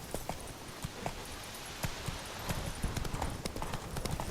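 Horse hooves in the video game The Witcher 3 beat out a steady, fairly close clip-clop rhythm at a regular pace, with faint ambient game sound underneath.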